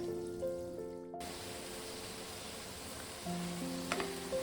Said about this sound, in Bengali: পিঠেগুলো আমি মিনিট দুই তিনেক একটু হতে দেবো দিয়ে তারপরে আমি উল্টে দেখাচ্ছি আপনাদেরকে উল্টে পাল্টে ভেজে নিয়ে দেখাচ্ছি